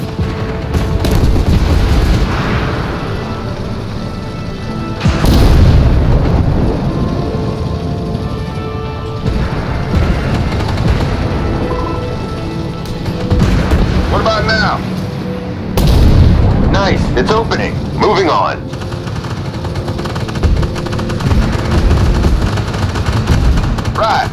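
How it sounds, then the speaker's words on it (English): Repeated artillery booms and explosions in the tank game Armored Warfare, heavy thuds rising from a constant battle rumble every few seconds, with talk mixed in. "They're getting hammered by artillery"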